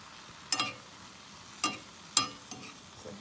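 Dandelion greens being stirred in a cooking pot, a few sharp clinks and scrapes at irregular intervals over a soft, quiet background.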